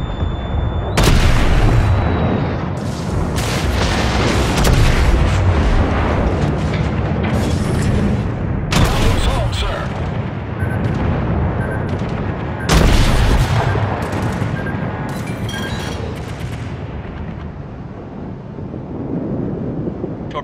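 Heavy naval gunfire from the Japanese battleship Kawachi in World of Warships, several loud booming salvos spaced apart over a rumbling, windy background, each blast ringing out and decaying, no speech heard.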